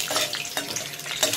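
Peanuts frying in hot oil in a kadhai, a close, busy sizzle with bursts of crackle and the scrape of stirring.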